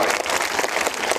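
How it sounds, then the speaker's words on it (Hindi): Crowd at an outdoor political rally in Siwan, Bihar breaking into loud, dense applause, steady clapping filling the whole moment up close with no pauses. "इधर जोरदार ताली बजा के स्वागत करो भाई।"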